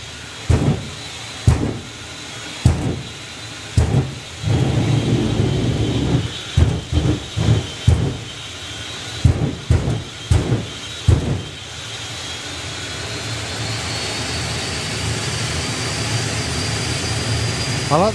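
A jet dragster's turbine winding up at a drag racing event, a loud near whine and roar that builds steadily and rises in pitch toward the end, broken early on by several sharp pops and bangs, with no talking.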